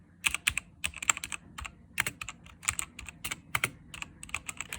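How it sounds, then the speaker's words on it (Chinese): Rapid, uneven clacking of a computer keyboard being typed on, recorded up close in a quiet room, with crisp individual key strikes and short pauses. "键盘的声音"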